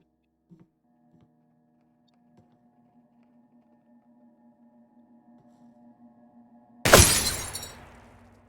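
Glass shatters loudly and abruptly in Receiver 2, a sharp crash with a trailing scatter of fragments, after a long stretch of steady low electrical hum with a few faint clicks.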